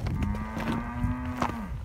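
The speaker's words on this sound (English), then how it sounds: "Mama cow, her calf." A mother cow on a farm lets out one long, close, steady moo near her calf on a cold morning, with faint background noise around it.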